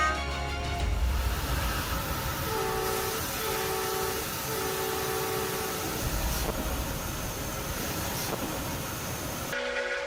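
A train runs along railway tracks near the Rajaji Tiger Reserve in India, a loud, continuous rumble and rattle of wagons close by, with horn tones sounding over the clatter before the noise drops off at the end.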